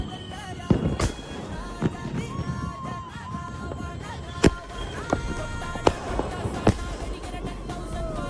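Firecrackers set off for Diwali at Karaikal Beach go off as sharp, scattered pops and cracks at irregular intervals over a steady outdoor background of wind, surf and crowd noise.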